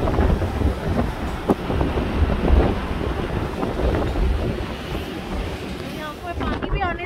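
Strong gusts roar against the microphone on a stormy beach at the Atlantis Hotel in Belek, with heavy surf churning steadily underneath and no letup across the whole stretch.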